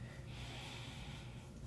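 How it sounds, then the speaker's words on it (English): Slow, deep ujjayi yoga breath drawn steadily through a constricted throat, a continuous close hiss with a low rasp, heard alone without talk. "Some little ujjayi breathing, which is kind of a yoga thing"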